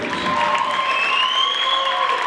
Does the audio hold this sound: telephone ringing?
no